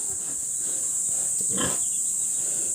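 A mother pig with her 17-day-old piglets on a backyard pig farm: one soft grunting squeal rises briefly in the middle, set against a steady high electrical whine and low background noise.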